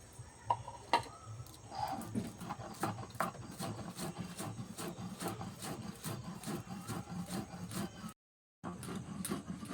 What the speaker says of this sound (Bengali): এবার জিরে ধনে মৌরি বেটে নেব।